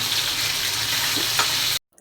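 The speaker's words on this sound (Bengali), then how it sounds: "মাছগুলো এখন ভেজে নেব।" Rohu and sarpunti fish fry in oil in a frying pan with a steady, close hissing sizzle that stops abruptly near the end.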